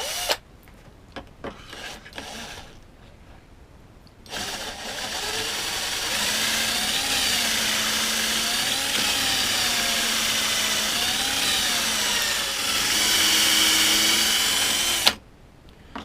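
A few sharp clicks and knocks, then a power drill runs continuously for about ten seconds while making a door frame, its motor pitch wavering slightly before it stops abruptly.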